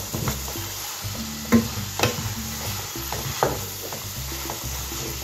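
Sliced carrots, zucchini and potatoes sizzle softly in a pan while a spoon stirs them, giving repeated scraping taps every half second or so over a steady frying hiss.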